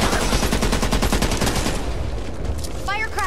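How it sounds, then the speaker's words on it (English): Rapid automatic gunfire in the video game Back 4 Blood, a loud burst of closely spaced shots that thins out, followed by brief game voices. "Gunshot."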